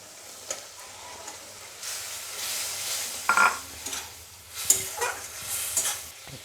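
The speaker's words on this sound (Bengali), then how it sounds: "এবার আমি চিংড়ি মাছগুলো দিয়ে দেবো।" Prawns are stirred into a sizzling spice paste in a pan, with a soft frying hiss under short, close scrapes and clinks of a spoon against the pan.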